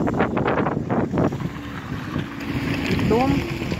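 Wind gusting outdoors in a St. Petersburg residential complex at minus one degree, a steady broadband rush with a voice talking over it in the first part.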